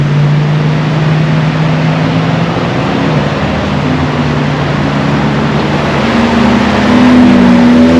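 A Ford F-150 pickup truck's engine rumbles loudly and steadily, its drone shifting in pitch as the truck pulls away, with no one speaking.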